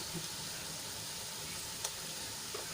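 Spices and salt fry in oil in a pan, a dense continuous hiss that stays even and close throughout, with a couple of faint utensil taps and no talking.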